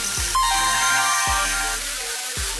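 Ringtone melody on a Nokia C2-00 phone, a series of bright tonal notes with a few sharp low thumps repeating about once a second, played loud and close with no talking.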